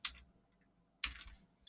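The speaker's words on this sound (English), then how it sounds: "So just use Control C on my keyboard." Two short bursts of computer keyboard key presses, a Control C copy shortcut, each a quick cluster of clicks about a second apart, close and fairly quiet with no talk.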